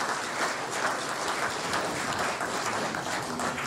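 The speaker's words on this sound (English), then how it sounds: "Let's give a round of applause to Government House." A ceremony audience applauds Government House at a cabinet ministers' swearing-in, a dense, steady wash of many hands clapping at close range throughout.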